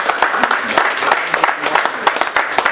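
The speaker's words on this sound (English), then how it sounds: "So a round of applause to yourself." An audience at an evening school talk claps in a loud, dense burst with individual hand claps audible, a few voices murmuring faintly underneath.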